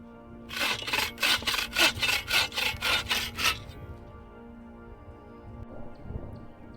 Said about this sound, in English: I was cutting the last few pieces of firewood